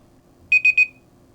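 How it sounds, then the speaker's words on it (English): Three quick high-pitched electronic beeps in a steady rhythm from a Voice GRUS talking watch's crown button, close and clear over a quiet background hum. "I get 3 beeps."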